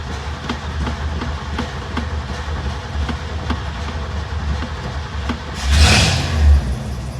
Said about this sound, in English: I haven't started it in probably a week, so this will be a cold start.